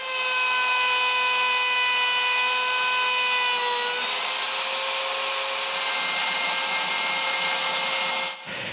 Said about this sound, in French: Tout est coupé avec la même mèche d'1/4 de pouce.